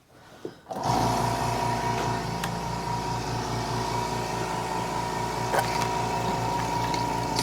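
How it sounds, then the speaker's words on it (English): Milk machine pump drawing water up through its lines, giving a steady, close mechanical whirr with a fast regular pulsing that starts abruptly and then runs on unchanged, with no talking. "I'm going to kind of push these buttons at the back that sucks the water up"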